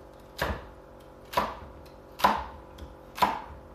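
Nakiri vegetable knife chopping vegetables on a board: five separate, evenly spaced chops about a second apart, close and crisp, with no talking.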